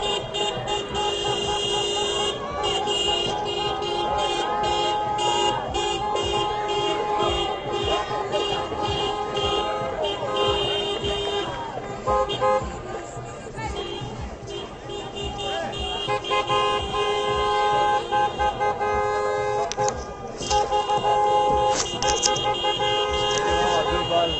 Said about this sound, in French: Et donc avec beaucoup de klaxons.